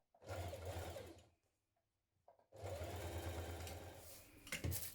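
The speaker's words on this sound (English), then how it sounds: "stitch along the folded edge to create your casing" A home sewing machine stitching along the folded edge of bias tape to form a dress casing, two bursts of fast, even motor-driven stitching separated by a short pause.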